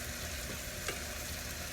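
Roux of flour and fat browning in a hot pan gives a steady, close crackling sizzle with a faint stir or scrape in the middle, even and continuous throughout.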